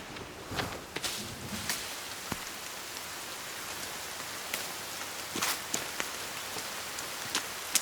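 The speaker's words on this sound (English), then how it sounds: "Now it's gonna rain." Steady rain falls in The Forest video game, a continuous broadband hiss of drops on surfaces with occasional louder patters and faint rustling, heard alone without voices.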